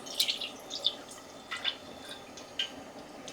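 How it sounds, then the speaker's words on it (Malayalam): Cooking oil is poured into a heated pan for frying ingredients for a Kerala-style pickle, making faint, scattered drips and soft liquid ticks in an otherwise quiet kitchen. "നമുക്ക് വറക്കാൻ ആവശ്യമായിട്ടുള്ള ഓയിൽ ഒഴിക്കുന്നുണ്ട്"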